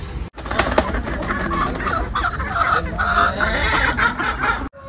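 Several free-range Kadaknath chickens on a farm in Coimbatore cluck and murmur continuously at close range, with busy overlapping calls and a steady outdoor background.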